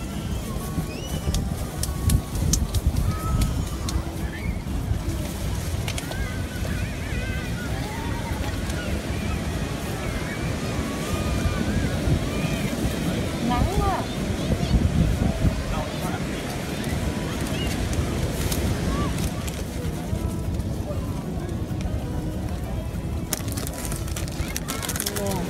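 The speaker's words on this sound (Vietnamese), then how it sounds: "Wow, gió quá." Strong wind buffeting the microphone at a sandy beach, a steady roar over crashing surf for the whole stretch, with a few distant voices.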